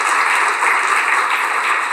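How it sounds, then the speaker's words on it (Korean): Audience applause at a school admissions presentation, a steady dense wash of clapping that holds evenly for the full two seconds with no talk over it. "생생한 합격 소개를 들려준 정동영 학생에게 다시 한번 큰 박수 부탁드리겠습니다."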